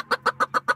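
Chickens in a chicken house cluck in five quick, evenly spaced pulses, close and clear with no talk over them.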